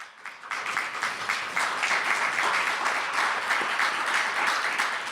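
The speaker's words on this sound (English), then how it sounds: "please give them a round of applause." An indoor town hall audience on Illinois budget mobilization breaks into sustained applause, dense steady clapping that swells after a short quiet start and holds through the end.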